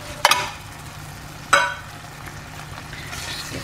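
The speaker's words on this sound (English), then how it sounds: "Just give it another little stir to make sure the paste gets well in there." A spoon stirs light coconut milk into red Thai curry paste in a pan, giving two short scraping clatters against the pan over a low background hum, with no voices.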